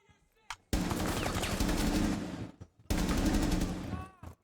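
Machine gun fire in the video game Rainbow Six Siege, two sustained loud bursts of rapid automatic shots, the second after a short pause, with brief quieter moments between them.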